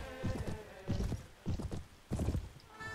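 Horses from the medieval video game Mount & Blade: Warband clip-clop in a steady walking rhythm, their hoofbeats fairly close and clear, with an occasional whinny mixed in.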